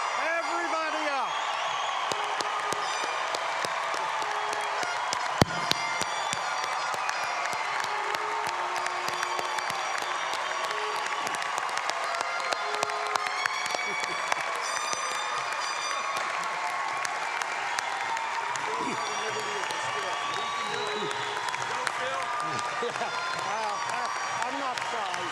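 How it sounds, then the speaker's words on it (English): A large commencement crowd claps and cheers in a sustained wash of applause, scattered whoops rising over the dense clapping; a voice speaks over it through a public address system. "let's all give them a big round of applause"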